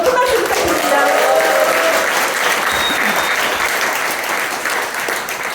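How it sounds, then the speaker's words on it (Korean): A large crowd applauding loudly at a political party members' meeting in Daegu, a dense, sustained roar of clapping close by that fades slightly toward the end, with some cheering voices mixed in. "명언을 남겨준 김준영 당선자께 다시 한번 큰 박수 부탁드립니다."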